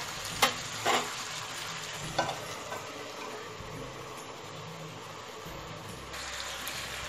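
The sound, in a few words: masala green chillies cooking covered on low flame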